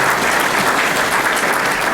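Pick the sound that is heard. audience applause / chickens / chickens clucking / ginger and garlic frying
audience applause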